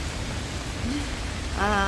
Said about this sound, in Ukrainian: От ми і пройшлися під дощем.